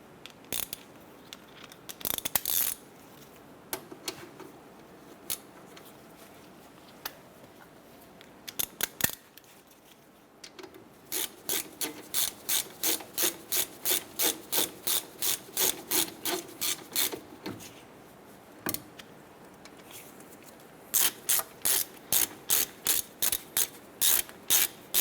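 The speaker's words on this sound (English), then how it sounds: "Let's go ahead and snug those down." A ratchet wrench snugs down front brake caliper bolts on a 2008-2012 Honda Accord, sending out runs of sharp, close clicks in rapid, evenly spaced bursts with short pauses between strokes.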